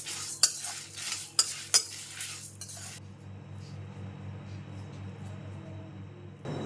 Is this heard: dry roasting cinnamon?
yes